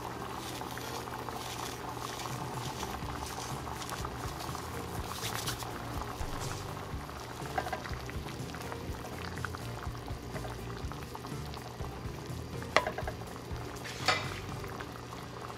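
Water boils hard in a pot on the stove, a steady churning, bubbling roar that runs throughout with a few brief clinks and splashes near the end, with no talking.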